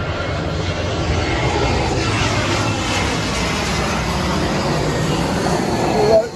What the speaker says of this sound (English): The plane is passing right over us.